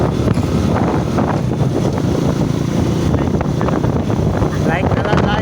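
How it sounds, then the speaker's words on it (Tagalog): Strong wind buffets the microphone while riding a Euro Rapido 110 motorcycle from Tagaytay to Talisay, Batangas, a loud, constant rushing roar with gusty surges throughout. "Ang lakas ng hangin."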